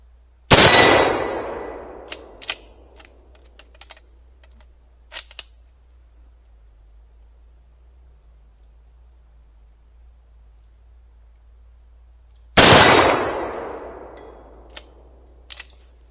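Two sharp, loud World War II No.4 Mk1 Lee Enfield rifle shots at an outdoor range, about twelve seconds apart, each followed by a decaying echo and faint distant clinks in otherwise quiet air.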